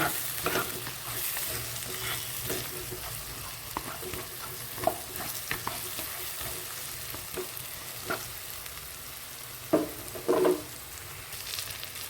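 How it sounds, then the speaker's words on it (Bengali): Fried prawns tossed through a spice paste in a pan for Bengali prawn malai curry, a steady low sizzle with scattered spoon scrapes and a few louder clatters near the end. "ফ্রাই করা চিংড়ি মাছগুলো দিয়ে দেব। দিয়ে ভালো করে মশলার সঙ্গে মিশিয়ে দেব।"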